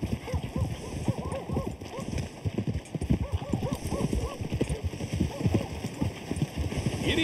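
Horse hooves clip-clop steadily in a quick riding rhythm in the RedM western video game, close and prominent, with a faint patter like rain underneath and some voice chatter mixed in.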